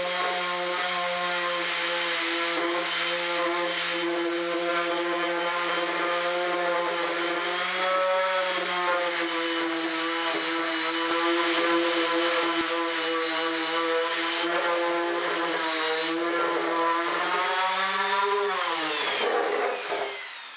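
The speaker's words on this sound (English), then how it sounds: "I got my 220 on my orbital sander," An orbital sander fitted with 220-grit paper works across a small wooden table, giving a steady high motor whine with a raspy scrubbing layer. The whine holds for about twenty seconds before winding down at the end.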